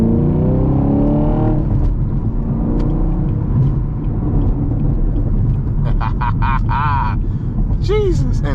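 A Camaro SS 1LE engine drops into second gear and pulls hard, giving a loud continuous rumble and rev beneath someone talking, with the engine note swelling toward the end.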